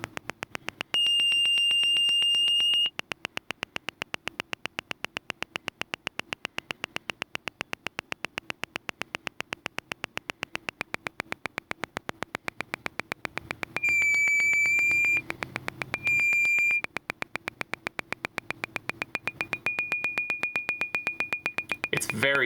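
A no-input mixing board fed back through its auxiliary sends makes a rapid, steady electronic pulse with piercing high whistling tones fading in and out, a fairly quiet, continuous oscillating drone.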